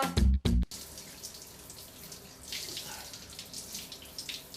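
Running water from a shower pours steadily as a soft, continuous hiss after two brief loud knocks at the start, with no voices.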